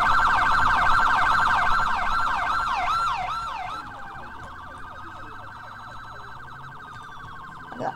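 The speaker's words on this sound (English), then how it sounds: "like it's a realistic siren" A California Highway Patrol car siren wails close and loud in rapid rising-falling cycles, then shifts to slower, fainter sweeps as it settles, with traffic noise underneath.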